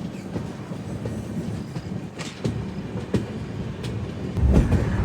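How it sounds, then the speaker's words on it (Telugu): Mahanagari Express rolling slowly through a goods yard while shunting, with steady low rumble and scattered wheel clicks and clanks on the rails, louder toward the end. "స్లోగా షంట్ అవుతుంది బండి."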